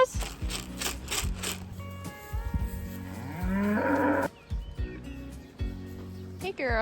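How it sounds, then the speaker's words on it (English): Cows on a farm being moved to pasture, several drawn-out moos, some rising and wavering, close by and repeated, with brief pauses and rustling between calls. "Come on, cows."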